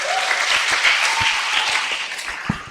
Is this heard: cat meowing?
no